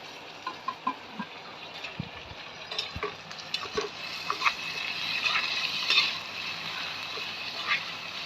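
Onions and green chillies fry in hot oil with a steady crackling sizzle that builds and brightens over the seconds, broken by a few soft knocks and stirring clatters near the start.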